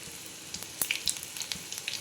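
Cumin seeds sizzling and crackling in hot oil in a home kitchen pan, a steady close frying hiss broken by small sharp pops and spatters, with no talk.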